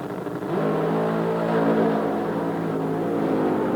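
AA nitro-burning dragster at a drag strip during the Nationals, a loud sustained engine roar with harmonic drone building after a brief softer start and holding steady, no talk.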